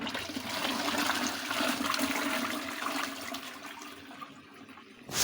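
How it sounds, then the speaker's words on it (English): A household toilet in a home in Malawi flushes with a steady rushing gush of water that fills the space, holding loud for several seconds before easing into a trickle near the end, with no voices. "Now we have a flushing toilet."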